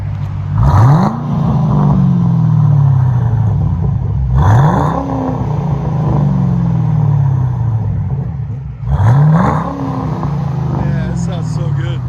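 A 2005 Ford Mustang GT 350R V8 with Flowmaster Outlaw dual exhaust revs three times in a row, each a sharp rising blip that falls away into a deep, loud, rumbling burble, heard up close.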